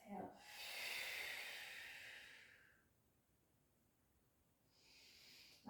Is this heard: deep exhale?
yes